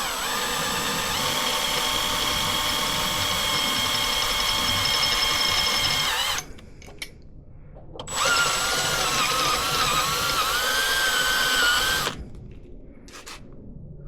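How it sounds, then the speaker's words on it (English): A power drill with a number 20 bit drilling out rivets on a Yamaha WR450F whines steadily for several seconds, pauses briefly, then runs again in a second long burst, close and loud. "Next step is to drill out these rivets."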